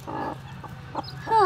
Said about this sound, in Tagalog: nagpisa na po uli yung ating manok